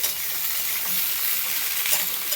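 Sliced bitter gourd and potato sizzle in hot oil with tempering spices, a close, continuous crackling fry with faint scraping of stirring and a few small clinks.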